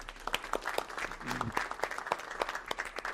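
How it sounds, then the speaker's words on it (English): Audience applause for a registration team at a gathering, a sparse scattering of claps from a modest crowd, fairly faint, with a brief voice or tone in the middle. "I think we should clap for them."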